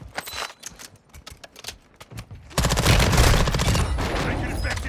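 Gunfire in Warzone 2: a string of sharp, separate shots gives way halfway through to a dense, loud, sustained burst of automatic fire that continues to the end.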